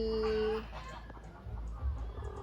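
Chickens cluck in the countryside under trees, with a few loud close calls and scattered quieter clucks over a low rumble of background noise.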